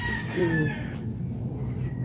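Chickens cluck in a short burst of throaty calls, close by, over a steady low background rumble.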